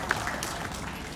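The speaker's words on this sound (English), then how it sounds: "So for big round of applause for the parents who are thinking in a different way." An audience applauding the parents at a school stage event, a brief spell of steady clapping from many hands, moderately loud and continuous.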